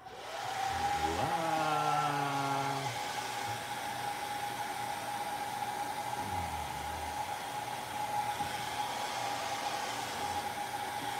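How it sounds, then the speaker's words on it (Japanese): A hair dryer blows on a transparent watercolor painting of winter Hokkaido, roaring up at the start and then holding a steady, close whine and airy hiss throughout. "すみません、いつものようにドライヤーかけます。うるさいですよ"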